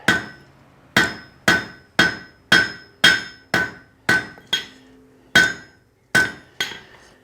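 Hammer strikes ring out on hot steel as the edges of a taper are knocked down while forging a meat hook, about a dozen loud, evenly spaced metallic blows with ringing decay, close and alone.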